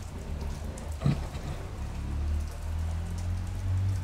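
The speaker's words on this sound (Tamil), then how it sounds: "மழையும் பெய்யுது தானே" Steady rain falling outdoors, a continuous hiss of drops with a brief louder patter near the start and a low background rumble, heard without talk.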